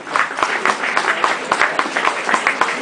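Applause for a singer fills a church, a steady patter of many hands clapping close by, dense and even throughout without any voices over it.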